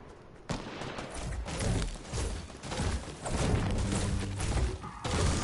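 Video game gunfire, dense bursts of shots and impacts crackling and thumping almost without pause, loud and close, with a few brief gaps between volleys.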